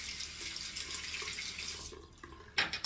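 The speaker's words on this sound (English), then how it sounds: "Add a little bit of water." Water runs from a tap for shaving lather, a steady hissing stream that cuts off near the end, followed by a few brief drips and splashes.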